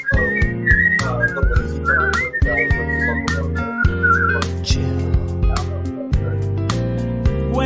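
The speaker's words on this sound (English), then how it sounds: "real whistling" Someone whistles a lively, bouncy melody over a rhythmic musical backing, clear and close throughout.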